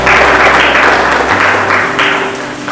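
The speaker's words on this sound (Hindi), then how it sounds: "ताली बजाकर प्रभु को महिमा दो।" A church congregation claps together in praise during a Hindi worship service, a dense, steady crowd clapping that stays loud throughout with a low hum beneath it.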